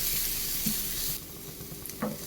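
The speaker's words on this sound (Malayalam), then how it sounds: "ഇത് നല്ലതുപോലെ ഒന്ന് വഴറ്റിയെടുക്കാം" Sliced onions with crushed curry leaves sizzle and fry in a pan for a bun dosa filling, a close steady crackle with brief scraping stirs, quieter after a pause.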